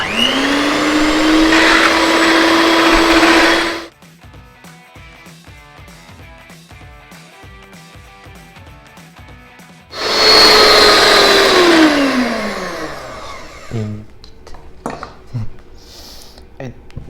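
An electric hand mixer whisks eggs, whirring loudly for several seconds, stops, then starts again and winds down, with clinks and faint rhythmic clatter in between.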